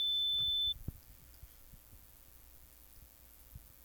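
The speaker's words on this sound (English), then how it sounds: "4 octaves higher, back at a sine wave." A pure, steady high sine-wave tone from the Serum software synthesizer holds for well under a second, then cuts off abruptly, leaving faint low rumble and soft knocks.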